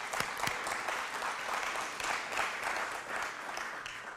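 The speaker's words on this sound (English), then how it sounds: "stand up and we'll give you a round of applause" Applause from a seated audience at a foundation's fellowship announcement, steady dense clapping that fills the room at moderate distance, holding evenly throughout without any voices over it.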